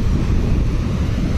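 A cool wind blows along a rocky seashore with strong waves, buffeting the microphone in a constant low, heavy roar with the surf blended underneath and no voices.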